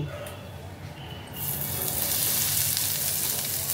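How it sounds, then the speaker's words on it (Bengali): Asafoetida dropped into hot white oil in a wok, setting off a sudden loud broad sizzle after a quieter opening that holds steady and close until the end. "কড়াইতে তেলটা গরম হয়ে গেছে, এখন আমি এর মধ্যে দেব হিং।"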